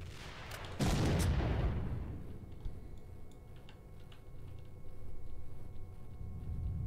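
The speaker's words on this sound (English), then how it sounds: "Somebody has a rocket launcher." Rocket launcher fire in S.T.A.L.K.E.R.: Shadow of Chernobyl, one heavy booming blast that rolls off into a long low rumble, followed by faint distant clicks and scattered gunfire in the background.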